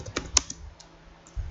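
Typing on a computer keyboard while entering a driver download search: a few quiet, scattered keystroke clicks with pauses between them, close and alone.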